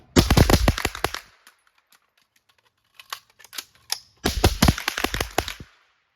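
Rapid strings of close rifle shots from .22 and 5.56 rifles at a range, two dense bursts separated by a pause with a few scattered shots.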